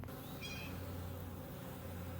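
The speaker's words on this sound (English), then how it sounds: "This is the package of bees that I installed about 4 days ago, and they seem to be doing fine." Honey bees from a package colony installed four days earlier buzz steadily at an opened hive, a continuous low drone close by with no talking.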